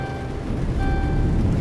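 Euro Truck Simulator 2's low brake air pressure warning: a steady electronic alarm tone that breaks off briefly and resumes, over a constant low rumble from the truck.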